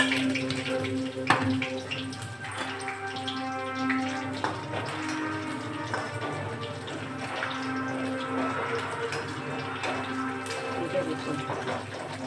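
Mustard seeds, cumin, two dried red chillies, chana dal and four or five garlic cloves sizzle in hot oil in a pan, a steady close crackle and hiss with small pops throughout, with no talk over it.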